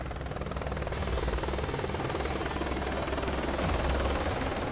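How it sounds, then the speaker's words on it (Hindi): Apache attack helicopter flying close by, its rotor chopping in a steady rapid beat over a loud, even engine whine that swells slightly toward the end, with no talk. "अपाचे हेलीकॉप्टरों की गिनती दुनिया के सबसे घातक एडवांस मल्टी कॉम्बैट हेलीकॉप्टरों में होती है।"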